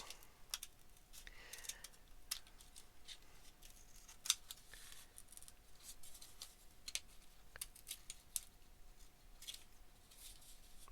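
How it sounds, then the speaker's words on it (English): Quiet snips and small sharp clicks of scissors cutting cereal-box cardboard, scattered irregularly with soft rustling in between. "Let me grab my scissors for that little piece right there."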